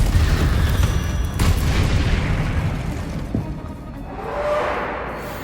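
Spell explosions in Hogwarts Legacy land in a heavy rumbling boom with a whooshing burst, fading into a softer crackling tail, loud and close with no talk.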